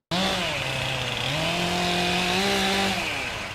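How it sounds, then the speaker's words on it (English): Chainsaws cutting through a large fallen tree lying on power lines in a DeKalb County neighborhood, a loud, steady motor whine with pitch shifts as the saw bogs and revs, running continuously with no talking. "The deafening sounds of chainsaws and heavy construction equipment serving as a wake-up for this quiet DeKalb neighborhood"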